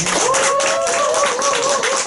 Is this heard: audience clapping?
yes